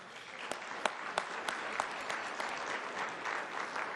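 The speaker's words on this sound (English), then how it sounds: "Please give them a round of applause." An audience at a community breakfast applauds. The clapping is dense and sustained, with a few sharper claps standing out near the start, and it carries on evenly to the end.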